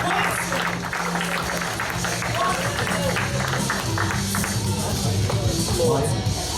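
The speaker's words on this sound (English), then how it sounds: "And let's keep that clapping going for Mr. Walton." Applause from a comedy club audience in Tulsa spreads through the room as a steady clatter of clapping, with a voice talking over it throughout.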